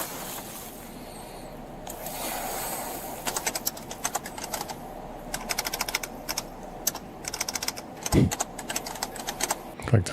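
Quick clattering keystrokes come in irregular bursts from a keyboard inside a police setting, close and fairly crisp over a low background hum, with a couple of louder thumps near the end.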